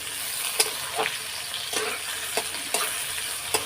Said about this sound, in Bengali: তেজপাতা দিয়েই এখন নাড়াচাড়া দেবো